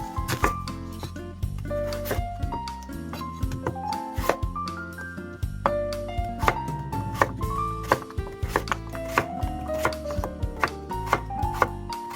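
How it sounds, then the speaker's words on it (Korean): A knife chops potatoes on a cutting board for a Spam gochujang stew, steady rapid taps repeating throughout under loud background music. "감자 썰어 주세요."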